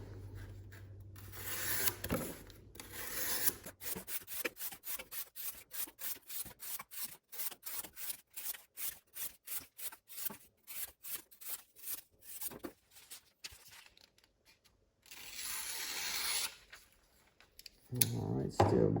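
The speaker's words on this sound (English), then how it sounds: "I decided to cut up some more cardboard so I could try to get these to see which one dulls out first." A D2-steel CJRB Crag knife slices repeatedly through cardboard in an edge retention test, giving a fast, even series of dry rasping strokes close by, framed by louder rustling handling noise at the start and end.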